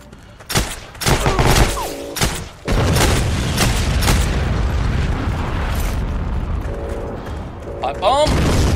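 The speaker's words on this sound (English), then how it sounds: "Pipe bomb!" Pipe bomb blast in the game Heroes and Generals amid a firefight: sharp explosive bangs and gunfire crack loudly near the start, followed by a sustained rumbling roar and more bursts later, with short bursts of talk over the top.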